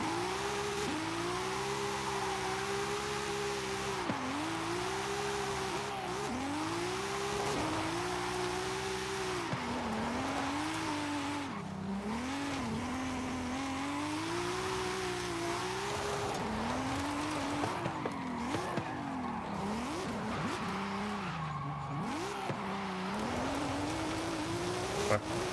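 A Mitsubishi Galant drives in Forza Horizon 5 with a continuous engine note that rises and falls as it revs and shifts through repeated accelerations, heard close and steady for about twenty-five seconds.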